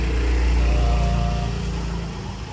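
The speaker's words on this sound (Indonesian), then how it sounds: "Jadi pakai mesin poles, pakein obat, akhirnya akan keluar kilapnya." A polishing machine buffs parts of a Harley-Davidson Shovelhead sidecar motorcycle with a loud, close, steady motor drone that eases off slightly toward the end.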